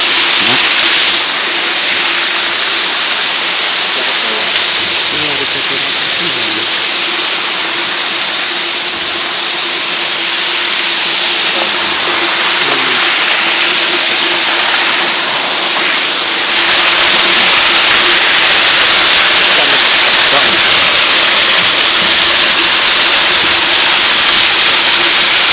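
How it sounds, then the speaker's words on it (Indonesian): Waterfall in a village area, heard as a continuous loud rushing hiss of falling water that swells louder partway through and holds steady to the end, no voices. "kita menuju ke bawah melihat ke air terjun sebelah sana"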